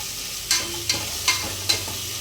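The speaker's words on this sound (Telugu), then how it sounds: "దీంతో పాటు మటన్ పీసెస్ కూడా వేసేద్దాం. ఇవి కూడా దీంతో పాటు బాగా ఫ్రై చేసేసుకోవాలి సిమ్లో పెట్టుకొని." Mutton pieces frying with ginger-garlic masala in a pan over low heat, a continuous soft sizzle broken by four evenly spaced spoon scrapes against the metal.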